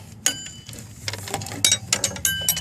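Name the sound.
box-end wrench loosening a greasy nut on a 2000 Chrysler Town and Country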